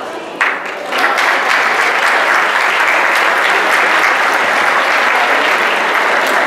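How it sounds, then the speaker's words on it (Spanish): A large hall audience applauds the organizing committee of a Lions Clubs national convention during a gala dinner, sustained loud clapping that swells in after a brief start and holds evenly to the end. "os pido un grandísimo aplauso para el Comité Organizador de la Convención Nacional 2013"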